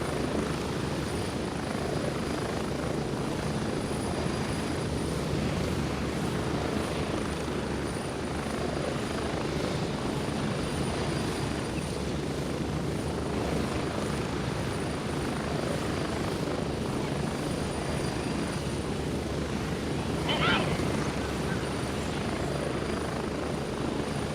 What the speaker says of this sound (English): Get away from that damn helicopter